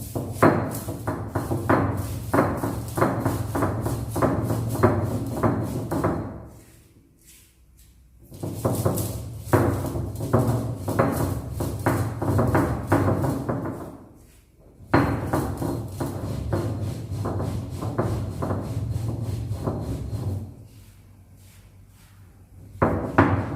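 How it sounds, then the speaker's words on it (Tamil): Pounding of roasted black pepper and cumin on a traditional stone grinder in a kitchen, in three long bursts of rapid rhythmic knocks with brief pauses between them. "அம்மியில் பொடி பண்ணிக்கிட போகிறேன்."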